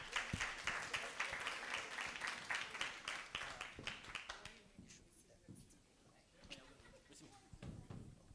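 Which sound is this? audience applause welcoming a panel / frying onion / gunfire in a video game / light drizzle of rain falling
audience applause welcoming a panel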